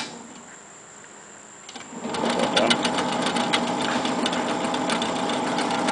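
A reel-to-reel tape deck runs forward with a fault. Quiet hiss gives way, about two seconds in, to a louder, steady mechanical whirring and rattling that holds at a constant level, with no speech.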